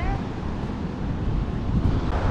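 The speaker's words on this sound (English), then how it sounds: "And the waves here are quite big" Big ocean waves breaking on the beach at Maspalomas, Gran Canaria, a steady loud wash of surf with wind buffeting the microphone throughout.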